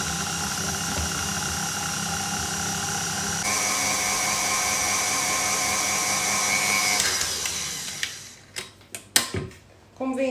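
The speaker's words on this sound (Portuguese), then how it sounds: "depois voltem a ligar a batedeira" An electric hand mixer beats chocolate chip cookie dough in a bowl, a steady loud motor whir that shifts pitch partway through, then cuts off near the end, leaving a few clicks and knocks.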